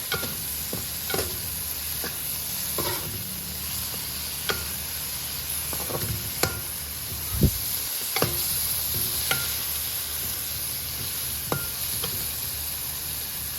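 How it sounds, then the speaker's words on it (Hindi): Mashed turnips being stirred into spice masala in a pan: steady sizzling with a spoon scraping and tapping the pan at irregular intervals, close and continuous. "फिर जो शलजम मैश किए थे इनको मसाले में डाल दें। इसको अच्छी तरह मिक्स कर लें मसाले में।"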